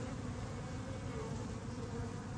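Honey bees in an overheated hive in southern Arizona produce a dense, steady buzzing that stays loud and close without a break, with no voices.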